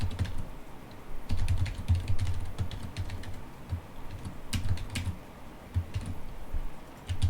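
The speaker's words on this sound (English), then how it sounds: "The next thing I'm gonna type is the function that returns the thread number" Fingers typing program code on a computer keyboard, irregular bursts of close clicky keystrokes with brief pauses between runs, no speech.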